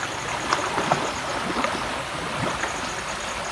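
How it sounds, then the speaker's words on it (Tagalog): Floodwater rushes across a flooded farm field in a steady churning flow, with scattered splashes and gurgles over a constant roar and no talking. "Grabe ang baha."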